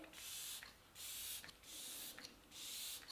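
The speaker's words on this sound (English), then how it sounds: "So I'm going to spray my face." Facial mist sprays onto a face in four separate hissing bursts, each lasting roughly half a second, with short quiet gaps between them. The sound is close and fairly soft, and no one speaks.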